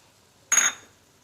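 A single short metallic scrape of a utensil against a pan while stirring Salem mango curry, close and distinct against near silence.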